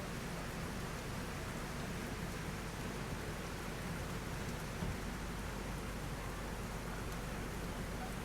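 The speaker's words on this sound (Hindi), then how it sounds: "ऐसे शायद आपको समझ में आ रहा होगा कितनी तेज़ बारिश हो रही है यहाँ पे" Heavy rain pours down at Rajapur Road railway station around a halted train, a dense continuous hiss of drops that stays even and steady throughout with no voices.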